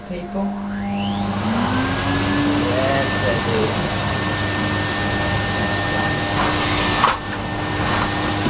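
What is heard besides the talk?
vacuum cleaner running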